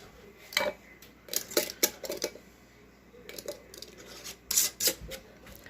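Metal lids are twisted finger-tight onto hot glass canning jars in a few short bursts of scraping and clinking, close by, with quiet pauses between.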